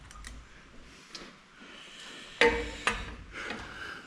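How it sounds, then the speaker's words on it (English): A door slams shut in a quiet workshop with a sudden heavy bang, then a second sharper knock just after. Faint clicks and low room noise fill the rest. "Door slammed on me. It scared me."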